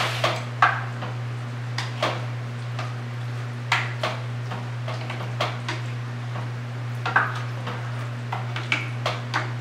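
Turkey picadillo mixed in a pan, with irregular utensil taps and scrapes against the pan over a constant low hum, close and fairly clear.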